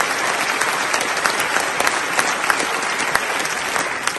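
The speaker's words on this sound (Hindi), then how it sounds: "पुरजोश तालियों की गूंज में इस्तकबाल किया" Enthusiastic applause from ministers and members of parliament fills a UK conference hall: loud, continuous clapping from a large crowd with sharp individual claps standing out throughout.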